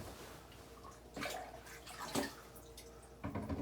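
Potted plant being dunked in water against fungus gnats: quiet sloshing and splashing with a few louder bursts of water movement and dripping, close by.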